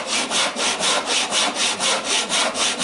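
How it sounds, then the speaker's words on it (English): A hand saw rasps through wood at bench height in a quick, even rhythm of back-and-forth strokes, close up and alone. "now we're sawing at bench height"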